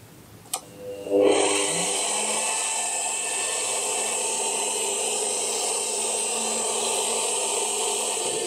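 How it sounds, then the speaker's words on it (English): Drill boring a hole in wood with an 18mm bit, starting after a click with a rising whine, then a steady, loud high-pitched drone holding constant to the end. "And we want the same speed for this drill bit as well."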